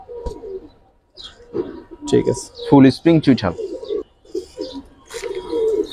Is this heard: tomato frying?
no